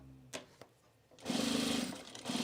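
A sewing machine stitches darts on a fabric bowl cozy in a steady, close whirring run of about a second, pausing briefly and then starting again, with a couple of soft handling clicks before it.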